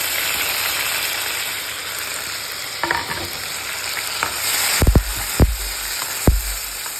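Chopped tomatoes frying with onions in a pan for ennai kathirikai kootu give a steady close sizzle, broken by a few sharp clacks of a spoon or spatula stirring against the pan near the end.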